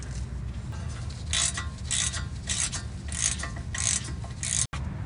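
A ratchet with an 8-point star socket clicks as it backs out the ABS sensor bolt on a 1997 Ford Mustang Cobra rear axle, giving about six bursts of rapid, close, metallic ratcheting over a steady background hum.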